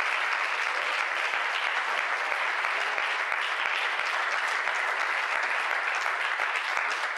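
A church congregation claps loudly and steadily for an extended stretch, a dense sustained roar of many hands, with some sharper individual claps standing out near the listener and no talking over it.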